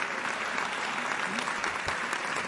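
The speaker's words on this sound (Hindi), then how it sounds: "तालियां कमजोर है आपकी" A crowd claps throughout a Hindi stand-up comedy and poetry show, a continuous, even wash of applause with no pauses, filling the whole short stretch.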